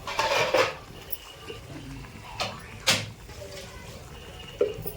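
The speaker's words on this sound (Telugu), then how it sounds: "ఇప్పుడు ఒకసారి మనం కలుపుకుందాం." A spoon stirs fish curry (chepala pulusu) in a metal pot on the stove, giving a few sharp, close clanks and scrapes spaced unevenly between quieter stretches.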